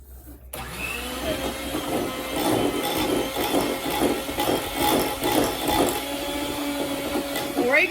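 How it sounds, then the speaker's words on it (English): Electric hand mixer whipping hot chocolate in a home kitchen: a steady whirring motor hum with pulsing beaters, fairly close, running throughout while people talk over it. "If you use a hand mixer, don't mix it too much"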